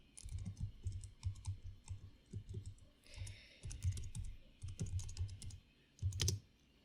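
Close, steady keyboard typing in quick bursts of clicks with short pauses between, while a low hum runs underneath and no one speaks.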